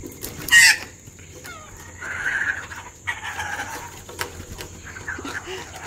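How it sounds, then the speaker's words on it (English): A baby magpie gives sharp, harsh begging calls at feeding time, with one loud burst near the start and then repeated scratchy cries, among a busy outdoor chorus of other birds. "that little guy, that's a baby magpie"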